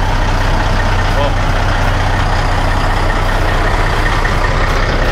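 A Caterpillar C18 18-litre diesel engine swapped into a Peterbilt truck idles with a loud, constant low rumble and throb, while a person briefly exclaims over it.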